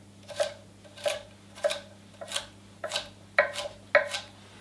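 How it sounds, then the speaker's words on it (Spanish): A kitchen knife dices carrot sticks on a cutting board in evenly spaced, crisp chops, about one every half second, close and clear over a faint steady hum, with no talking. "y después los bastones los iremos picando"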